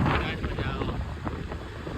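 Cool night wind rushing past a moving car, a steady broad blowing roar that buffets the microphone, loud and close throughout with no clear voices.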